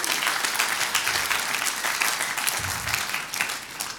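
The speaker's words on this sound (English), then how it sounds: "So let's give her a round of applause." An audience at an entrepreneur leadership event applauds, a full, continuous burst of many hands clapping close and loud, with a faint low thump partway through and no talking.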